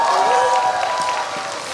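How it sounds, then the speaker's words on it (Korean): A crowd at a trot music gala show at Daejeon O-World theme park claps in a brief burst of applause, with a tonal musical backdrop underneath. "박수 한번 다시 주세요."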